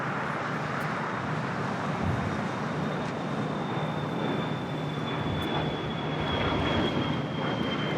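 A Cessna Citation X business jet takes off at LAX with a sustained, fairly distant engine roar and a thin high whine running steadily under general airport background noise.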